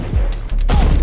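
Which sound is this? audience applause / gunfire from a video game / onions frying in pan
gunfire from a video game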